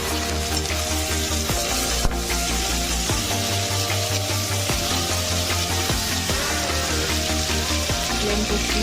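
Three medium chopped tomatoes drop onto fried onions in a pan for a potato and cauliflower curry, setting off a loud, steady sizzle with rhythmic stirring scrapes throughout.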